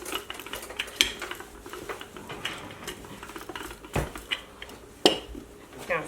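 A rolling pin works chin chin dough on a kitchen surface, giving soft rubbing rolls punctuated by a few sharp clacks and knocks of utensils, close and fairly quiet with no talk.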